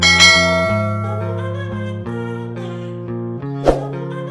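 A bright bell chime rings out repeatedly in a rising and falling melodic pattern, clear and resonant with long ringing tones, with a sharp accented strike near the end and no voices present.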